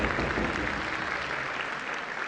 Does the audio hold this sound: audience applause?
yes